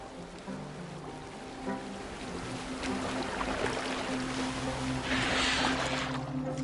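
A boat sailing on water in Assassin's Creed Valhalla, a continuous rushing wash of water and wind against the hull that builds slightly and stays steady throughout, with no speech.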